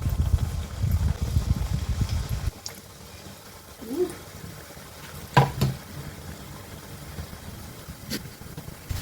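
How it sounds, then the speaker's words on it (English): A mini donut frying in oil heated for more than five minutes, for Naga donuts. A soft, faint sizzle with scattered pops and clicks follows a louder low rumble at the start. "let me just try frying this mini donut first"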